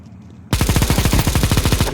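Negev machine gun firing in a video game, a loud, close burst of about fifteen rapid, evenly spaced shots after a quiet start, alone without talk.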